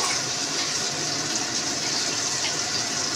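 Water pours steadily into a cooking pot of sautéed spiced food as a dal is being prepared, a continuous broadband gushing stream that holds even from start to finish with no talk.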